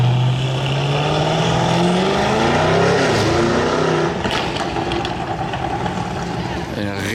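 Audi RS6 engine roaring loudly as it passes close by on a Monaco street, a rising then falling drone giving way to a rumbling fade, with some background voices.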